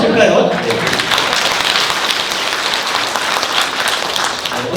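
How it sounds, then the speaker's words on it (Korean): An audience at a Catholic Lenten lecture on ecological conversion claps in a sustained burst, close and fairly loud, with a voice briefly heard at the start. "박수 한번 칠까요?"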